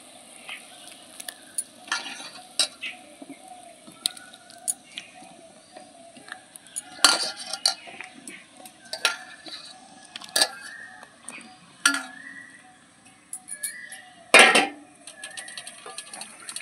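Pieces of cut raw mango dropped into thickened sugar syrup in a pan, giving a series of soft plops and clinks of a utensil against the pan, with quiet sizzling between the sharper bursts.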